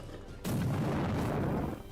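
A torch flung in the game Wartales ignites the ground with a sudden loud whooshing burst of flame that roars on for over a second, then fades slightly; no talking.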